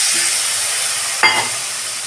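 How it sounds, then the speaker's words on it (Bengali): A little water poured into a sizzling pan of fish curry with ridge gourd, potato and eggplant: a constant loud frying hiss, then a sudden burst of spitting sizzle about midway that slowly settles. "অল্প জল দিচ্ছি"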